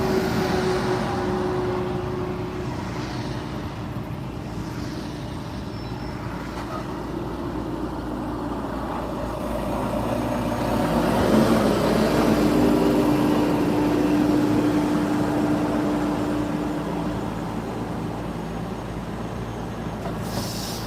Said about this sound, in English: That truck got something that's making a lot of noise.